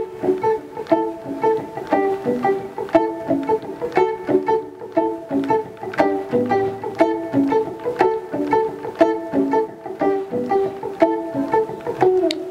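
Zambian kalindula guitar picks out the chivitiku pattern, a bright, steady, repeating run of plucked notes with a lively rhythm, played alone and up close.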